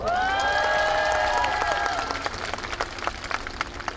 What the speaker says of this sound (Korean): 다 같이 박수 한번 칩시다.